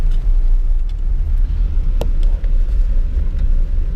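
A car on all-terrain tyres drives along a slushy, snow-covered forest road, giving a loud continuous low rumble of engine and tyres with faint scattered ticks and splashes.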